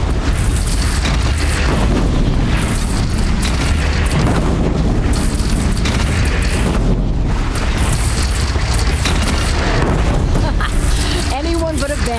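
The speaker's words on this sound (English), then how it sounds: "They only have one cannon!" Cannon fire in a video game battle, dense rolling booms and blasts that fill the whole stretch, with voices shouting over the din.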